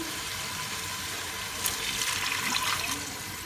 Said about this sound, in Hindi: अब हम इसमें 1 गिलास पानी शामिल कर देंगे